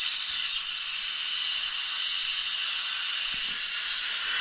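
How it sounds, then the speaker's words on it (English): A steady, loud blast of compressed air from an air compressor hisses continuously and alone at close range, with a few faint knocks underneath. "this will take 2 seconds to do with the air compressor"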